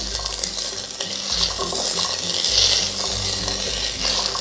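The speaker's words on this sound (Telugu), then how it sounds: "ఈ కూరగాయలని 1 నిమిషం వేగనివ్వాలి ఆయిల్లో." Vegetables with peas fry in hot oil in a pot while being stirred, a loud, continuous sizzle with repeated scraping strokes of the spoon and no talking.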